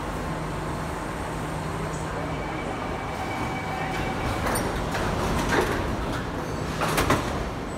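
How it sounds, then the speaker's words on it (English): A C151A metro train at Outram Park station makes a quiet, steady hum, with soft clunks and door-like knocks toward the end. "these two trains are ready to go"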